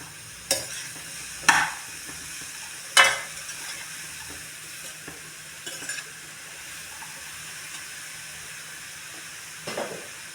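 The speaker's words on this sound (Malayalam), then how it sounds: "എന്നിട്ട് നമുക്ക് നല്ലോണം മിക്സ് ചെയ്യാം." Chopped ridge gourd for a thoran stir-fry is mixed in a hot pan: a quiet, faint sizzle under a handful of separate scraping stirs spread across the clip, without any talking.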